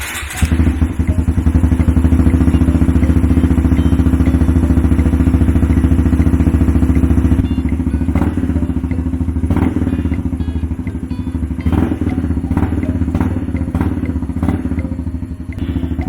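A Honda Grom's single-cylinder engine, freshly rebuilt with a new piston and top end, fires up from cold and runs at a loud, steady idle up close, with a few thumps and clatters toward the end.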